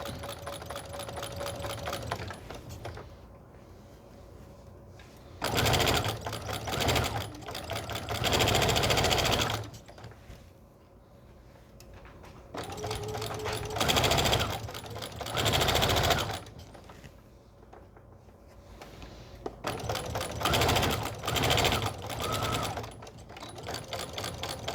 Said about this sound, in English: I'm going to back stitch and then stitch it on down.